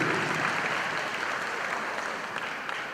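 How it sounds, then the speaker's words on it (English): Audience applause at a high school graduation ceremony, a steady dense clapping that fills the whole moment and tapers slightly toward the end, with no voices over it. "can we give a round of applause to Principal Roger as well as the talented teaching team here at Padilla High School"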